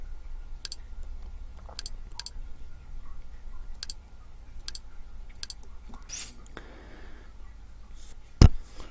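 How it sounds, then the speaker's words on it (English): Computer mouse clicking at a desk while browsing a VPN add-on: sharp, faint, scattered clicks at uneven intervals over a quiet room hum, ending with a louder bump. "I'm just clicking things randomly."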